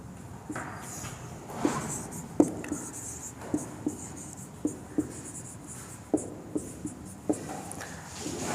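Pen writing Hindi alphabet consonants on a board or paper, a series of soft scratchy strokes with regular small taps as each letter is formed, quiet and close.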